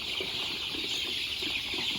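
Chickens on a farm, several birds clucking softly with occasional wing flapping, continuous and close, with no talking.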